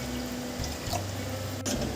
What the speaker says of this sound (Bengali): আমি এই মগটা দিয়ে জল দিচ্ছি।